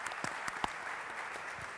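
Audience applause closing a lively, mainly Italian panel discussion at a ship finance conference, a steady clapping wash lasting the whole moment with a few sharper individual claps standing out.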